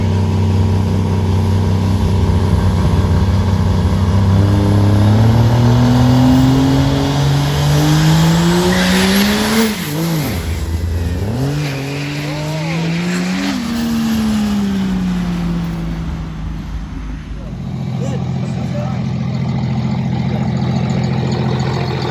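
Four-wheel drive diesel trucks launch at a July 2021 Mo-Kan Diesel Drags race, their loud engines revving and climbing in pitch through the gears, then dropping away before another rising roar.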